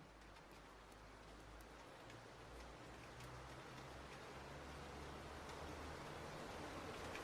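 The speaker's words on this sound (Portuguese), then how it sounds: "Refresca-se com as gotas de chuva." Steady rain falls, a soft continuous hiss with scattered droplet ticks, faint and even throughout with a low rumble underneath and no voices.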